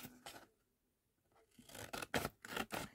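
Scissors cut paper in a few short snips at the start, followed by a quiet pause and then a quick run of louder, close crisp cuts and rustling.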